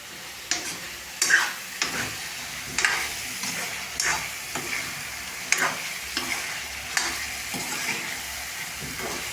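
Stuffed brinjal and potato curry is sautéed in a pan, with a low steady sizzle broken by repeated sharp scraping clicks of a spatula every second or so, close by and fairly quiet.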